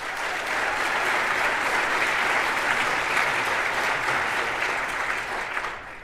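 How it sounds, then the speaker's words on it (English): An audience at an architecture awards ceremony applauds its individual honorees, a dense, steady wash of many hands clapping that holds loud for about six seconds before easing slightly at the end. "let's give another round of applause for all of our individual awardees, honorees tonight"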